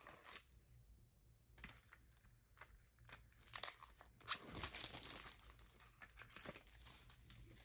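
Plastic packaging crinkles and tears as a CD single is unwrapped, in scattered, faint close-up rustles with a louder crunch midway.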